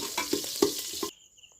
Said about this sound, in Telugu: సో ఇవి గోల్డెన్ కలర్ వచ్చేంత వరకు వేయించుకున్నాం